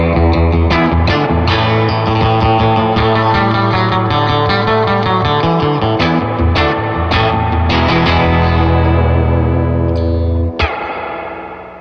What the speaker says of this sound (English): You can always plug into your amp and crank up the reverb. I have my trusty Fender 68 Custom Deluxe Reverb.